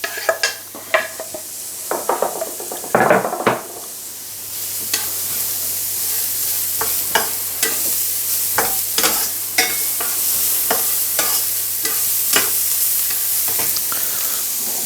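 Chopped onion with garden rosemary frying in a pan, a steady loud sizzle with scattered clicks and scrapes of stirring and utensils against the pan throughout, no voices.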